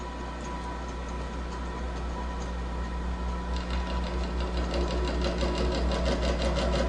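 A milling machine cutting a gear tooth, a steady mechanical hum with a rhythmic ticking pulse that grows more pronounced partway through, continuous and close, no voices.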